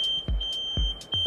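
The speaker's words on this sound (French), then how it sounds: "Donc ça c'est la sirène anti-vol, le 110 décibels qu'on entend." A GeoRide 110-decibel motorcycle anti-theft siren gives a steady, thin, high-pitched tone, faint and distant, broken by a few soft thumps.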